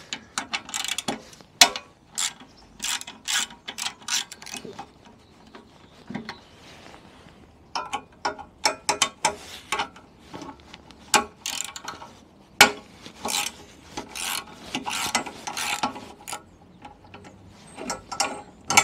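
A ratchet clicks in irregular runs as screws come out of a vehicle rack that carries lights, with short pauses between bursts of rapid close-up clicking.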